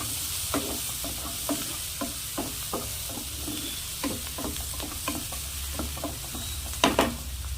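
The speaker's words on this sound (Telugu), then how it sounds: "దీనిలో కొంచెం పసుపు వేసేసి ఇంకొంచెం సేపు వేపండి" Spices frying in a pan after turmeric goes in for a spring onion and pesarappu curry: a steady close sizzle with repeated clicks and scrapes of a spoon stirring, louder at the end.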